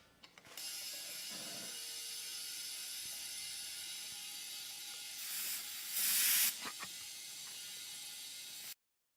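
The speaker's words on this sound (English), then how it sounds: "So here we have our trusty little air tank, which I'm just going to fill up the tire with." A small air tank fills a tire with a steady, close hiss of compressed air that runs for most of the clip, rising briefly to a louder burst near the end before stopping abruptly.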